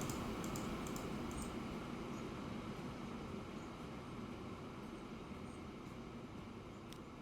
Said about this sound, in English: you can see here the train turns around instantly